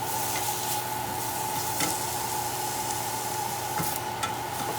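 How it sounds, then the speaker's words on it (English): Onions and ginger saute in a pan with a steady, moderate sizzle, occasional soft scrapes and clicks of stirring rising above the continuous hiss, close by and without speech. "go ahead and saute that. For about 2 minutes until the onions are nice and soft"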